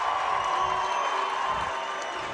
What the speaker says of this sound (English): Big crowd here on hand at the Curry Hicks cage for this Berkshire County Championship